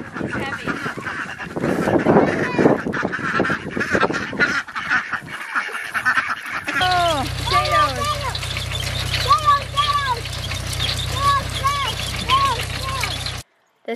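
Khaki Campbell ducks on a farm, a flock quacking and honking repeatedly at close range in the second half, with a person talking over steady background noise before the calls begin.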